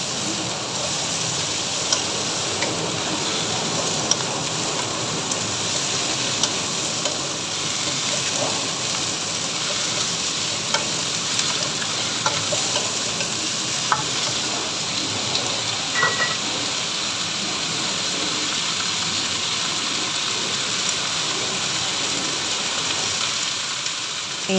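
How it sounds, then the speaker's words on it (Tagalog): Fresh mushrooms and Baguio beans sizzle steadily in a hot pan as they are stirred and sautéed, a continuous close frying hiss with occasional soft clicks of the utensil and no talk. "Yan po, halu-haluin at gisi-gisihin ito ng mabuti."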